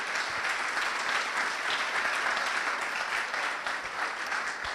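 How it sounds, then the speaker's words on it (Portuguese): A church congregation breaks into sustained applause, a dense and even wash of many clapping hands at moderate distance that continues throughout without talk. "Aplauda o Senhor em nome de Jesus."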